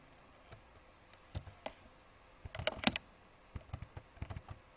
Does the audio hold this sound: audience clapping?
no